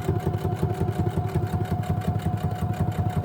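A sewing machine runs steadily, stitching fabric tags with a fast, even mechanical chatter, close and loud with no other sounds over it.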